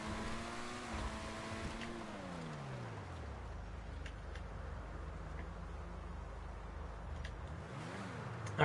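A Pegassi Krieger supercar in GTA Online drives through snow and brakes. A steady engine drone rises and falls through gear changes, then settles to a low rumble, with a quick rev near the end.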